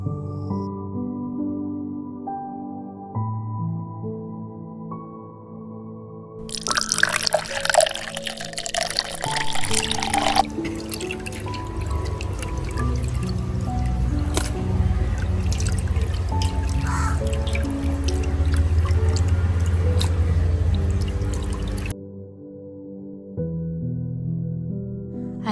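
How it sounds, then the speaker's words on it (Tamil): Peeled prawns being rinsed in water in a home kitchen, with splashing and pouring through a long middle stretch, set between quieter passages of background music, no speech. "அதுக்கு முதல் இறாலை தோல் இல்லாமல் க்ளீன் பண்ணி தண்ணியில் நல்லா அலசிக்கொள்ளுங்க"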